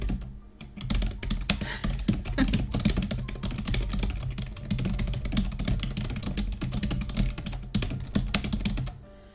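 Fast, steady typing on a wireless computer keyboard, a dense run of close, crisp key clicks continuing for about nine seconds with no talking.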